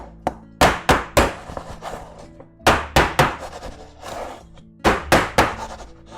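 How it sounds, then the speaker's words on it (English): Metal cake pans of batter are rapped repeatedly against a kitchen counter, loud sharp thunks arriving in quick groups of three or four, with short pauses between the groups and no talking. "Before we put these in the oven, I'm going to bang these against the counter."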